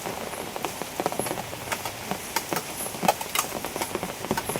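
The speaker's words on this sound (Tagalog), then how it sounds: "Ayan, inabutan po tayo ng pag-ulan." Rain falls on a surface in a rainy rural province during a meal outdoors. Scattered drops tap and patter irregularly over a steady wash of rain noise at moderate distance.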